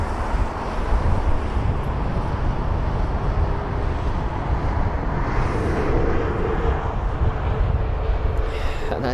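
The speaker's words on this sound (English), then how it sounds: "we've got 2 aircraft taxiing to 27 right now for departures" At London Heathrow, airliners including an A320neo taxi toward runway 27 for departure. A steady, broad jet rumble comes from a distance, mixed with wind noise on the microphone, and it holds at an even level throughout.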